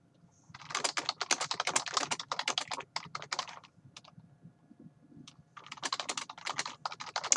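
Rapid clicking keystrokes on a computer keyboard come in two bursts separated by a brief quieter gap, typed into chat during an Elder Scrolls Online session, close and crisp with faint game sound underneath.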